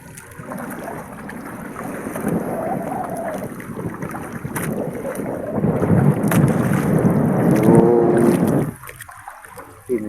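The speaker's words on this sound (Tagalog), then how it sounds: "Malakas ang hangin, oh." Strong wind at sea buffets and roars across the microphone, rising in gusts over several seconds before dropping abruptly, with water and fishing boat noise underneath.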